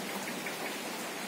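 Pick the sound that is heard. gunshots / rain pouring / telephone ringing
rain pouring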